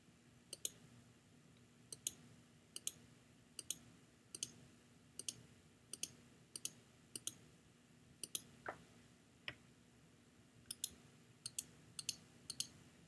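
Computer mouse clicking while tracing an object outline, crisp sharp clicks in irregular clusters of one to three, close and distinct over a quiet hum.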